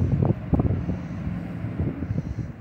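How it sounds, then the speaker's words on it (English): Outdoor road traffic near rush hour, a low rumbling wash of passing vehicles with swelling pulses, steady and moderately near, no voices. "I am going to apologize for the traffic."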